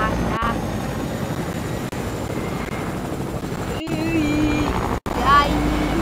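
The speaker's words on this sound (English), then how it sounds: "This is the bad thing about being in a helicopter, specifically." A helicopter in the video game Fortnite gives off a steady droning engine and rotor hum throughout. Brief tonal game effects and a short dropout break in, and players talk over the drone.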